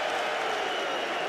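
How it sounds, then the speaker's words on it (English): Arsenal's home crowd at a Premier League match against Liverpool roars in a dense, steady wash of cheering from thousands of fans, loud and continuous throughout the short stretch. "That's got as big a cheer as his goal."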